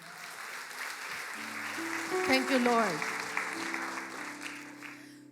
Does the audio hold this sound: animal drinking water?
no